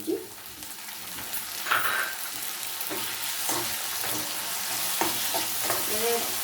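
Chopped onions and tomatoes fry in a pan, giving a steady, close sizzle broken by occasional scraping and clinking of a stirring spoon.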